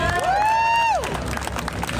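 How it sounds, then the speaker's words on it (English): Crowd at an armed Second Amendment rally at the Arizona State Capitol in Phoenix cheers and applauds, with a loud rising-then-falling whoop standing out over a continuous roar of clapping and shouting. "Big, huge, warm round of applause to welcome Eli Crane."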